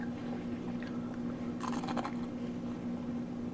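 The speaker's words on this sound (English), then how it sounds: "I know y'all can hear that crunch." Crunching a keto tortilla taco shell while eating, with a brief loud crisp crunch burst in the middle of close, steady chewing.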